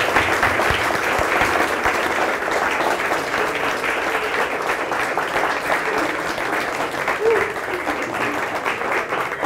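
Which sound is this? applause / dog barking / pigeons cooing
applause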